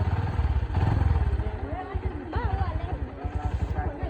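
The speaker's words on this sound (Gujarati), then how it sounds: "બાઇક સ્ટાર્ટ કરી દઈએ." A motorcycle engine runs with a steady, low, rhythmic thumping throughout, as though just started and idling nearby, while people talk over it.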